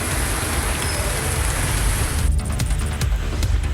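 Heavy rain pours down steadily in a Tamil Nadu downpour, a dense, loud hiss of drops on surfaces that continues without a break, with a few sharper patters toward the end.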